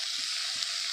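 Chopped tomato hits hot oil in a pan for chicken bharta, raising a dense, even sizzle throughout with a couple of soft stirring thumps, close and steady.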